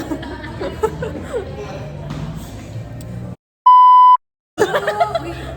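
Casual chatter and light laughter break off for a single steady electronic censor beep, then the talking resumes.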